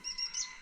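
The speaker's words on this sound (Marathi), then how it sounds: "इकडे पाखरं ओरडत आहेत केकाट्या" Kekatya birds call in the morning near a mud house in Sangameshwar, Konkan, with steady high chirps and tweets repeating through a brief, moderately loud stretch.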